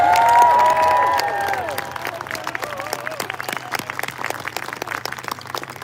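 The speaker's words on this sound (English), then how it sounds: "massive round of applause for Imogen!" Applause and cheering for Imogen at an outdoor clean water march in London, loud and dense at first with bright whistling tones, then thinning into scattered claps and crowd noise.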